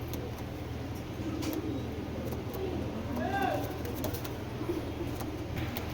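Heavy black checker racing pigeons, a large imported breed in a loft, coo softly amid a steady low hum and background chatter; the coos are faint and intermittent rather than prominent.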